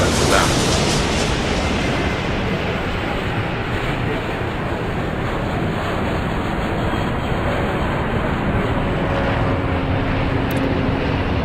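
Aircraft engines roar steadily throughout in the Airport Madness airport game, a broad continuous rumble with no break, loud and close.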